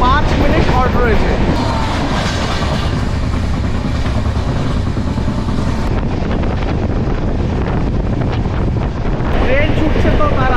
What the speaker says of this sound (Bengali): ট্রেন ছুটছে তো তার আপন গতিতে